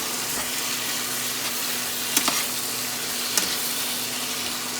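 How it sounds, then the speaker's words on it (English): Mushrooms frying with onion in a pan: a steady close sizzle throughout, with a few light clinks of stirring. "So now to this, I'm going to add our mushrooms. And let this all cook together."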